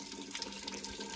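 Water running steadily from a camper's leaking waste tank, a continuous splashing, tap-like flow that stays close and even throughout, with no voices.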